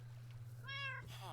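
A Minecraft cat gives a single short, clear meow, with a low steady hum running underneath.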